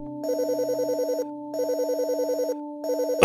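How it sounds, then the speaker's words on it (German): In the video game The Fridge is Red, a telephone rings in three repeated electronic trilling bursts, loud and clear with short gaps between them. "Oh, das blöde Telefon."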